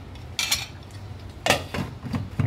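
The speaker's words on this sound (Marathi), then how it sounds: "आपण झाकण ठेवूया त्याच्यावरती" A metal lid set onto a pot of simmering wheat kheer in a home kitchen, with a few sharp clanks and clinks at irregular intervals, close and moderately loud.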